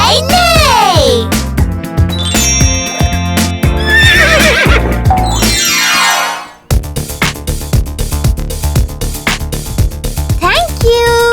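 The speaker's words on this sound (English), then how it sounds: "The horse says, neigh, neigh, neigh" Toy horse sounds neigh and whinny repeatedly, loud and close, in a nursery rhyme toy video setting, mixed with hoof clip-clops, tinkling and a voice, with a brief silence partway through.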